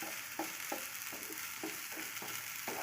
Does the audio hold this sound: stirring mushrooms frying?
yes